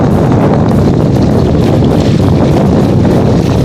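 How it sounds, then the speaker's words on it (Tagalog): Strong wind buffets the microphone in a loud, constant roar with heavy low rumbling throughout, at an outdoor fishing spot. "Mahirap lang mag-video kasi yan. Mahangin"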